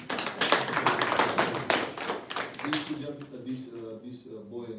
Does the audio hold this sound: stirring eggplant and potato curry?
no